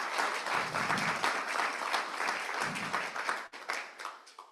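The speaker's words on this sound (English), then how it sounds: "applause please" Steady audience applause at a medical association conference meeting in Taipei, a dense wash of many hands clapping that thins out toward the end.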